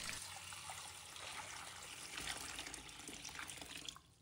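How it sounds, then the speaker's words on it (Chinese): Clean water pouring steadily into a basin of okra, a continuous close splashing stream that runs for about four seconds and then tapers off. "再倒入清水"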